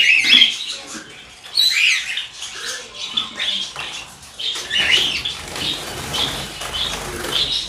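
Java sparrows flutter and rustle in an enclosure, with soft chirps and squeaks scattered throughout and bursts of wing movement near the mic.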